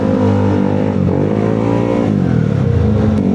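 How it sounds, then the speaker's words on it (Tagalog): A motorcycle engine revs close by, a loud steady drone whose pitch dips and climbs twice as the throttle changes, with no voices over it. "Parang baka din yung tunog ng motor niya, no?"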